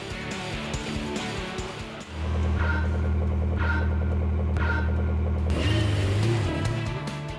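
A car on a cone course runs at steady high revs. Its engine drone stays constant and close, with a small dip around two seconds and a shift in pitch near the end.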